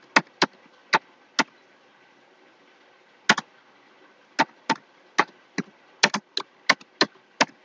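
Keys tapped on a computer keyboard while entering invoice text in MS Word, with sharp isolated clicks at uneven intervals, a few early, a pause, then a quicker run, crisp and close in a quiet room.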